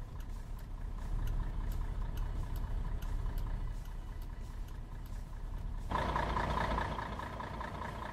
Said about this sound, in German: Sehr lauter Motor, muss ich schon sagen.